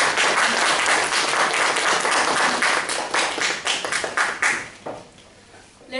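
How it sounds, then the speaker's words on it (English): An audience at a Toastmasters club meeting claps in a full, dense round that holds steady, then thins into scattered claps and fades near the end. "Let's again have a big round of applause for our Mr. General Evaluator."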